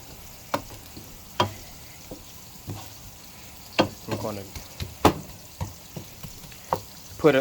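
Onions frying in a pan: soft sizzling with scattered crackles and pops, fairly quiet and close, with occasional clinks; no one speaks.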